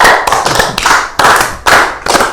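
A few people clap their hands in quick, loud bursts, several short rounds of close clapping separated by brief pauses, with no talking.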